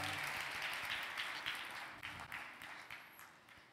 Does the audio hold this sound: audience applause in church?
yes